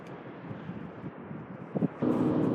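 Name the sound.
wind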